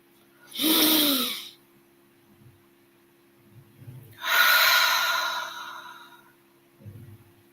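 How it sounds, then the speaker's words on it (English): Two slow, deep breaths taken in through the nose and let out through the mouth, each a long airy rush, the second longer and fuller, with soft low nasal sounds in between. "Let's inhale through the nose and then exhale through the mouth."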